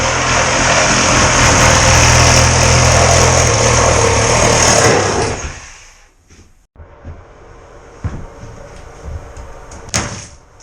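A quarter-inch corded Sawzall reciprocating saw with carbide teeth cuts loudly and continuously for about five seconds while removing a bathtub with a fiberglass surround, then stops, leaving quieter handling noises and a few knocks.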